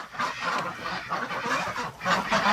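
Ducks in a cold winter pen quack and chatter in a busy, overlapping flock, several birds calling in quick bursts nearby.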